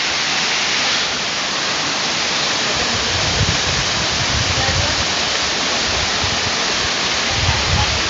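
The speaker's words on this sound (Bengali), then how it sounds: "জাদিপাই ঝর্ণা।" Jadipai waterfall in Bandarban pours with a loud, unbroken broadband roar, close and steady, with a faint low thud of footsteps or movement here and there.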